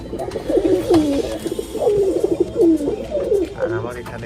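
Pigeons in a pigeon loft give repeated close, rolling coos in a steady rhythm, several calls overlapping over a murmur of background noise.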